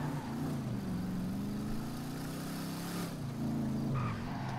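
A car's engine in GTA 5 hums continuously as the vehicle drives toward a hill, a steady moderate drone with slight pitch shifts as it accelerates, heard alone without talk.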